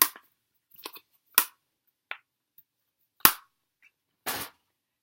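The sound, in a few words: eyeshadow palette case clicking shut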